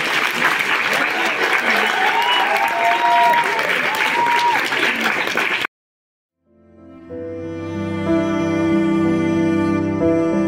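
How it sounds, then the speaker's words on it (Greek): An audience at a school theatre performance at a festival applauds the children, dense continuous clapping that cuts off abruptly, then gives way to music. "θέλαμε να χειροκροτήσουμε τα παιδιά."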